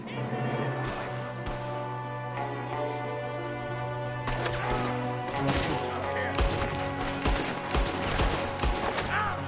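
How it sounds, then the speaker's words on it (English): Rapid gunfire in Red Dead Redemption 2 during a shootout with several attackers, one firing from a window: sharp cracks and bursts of shots, some overlapping, loud against a sustained musical drone. "There's another one shooting from the window."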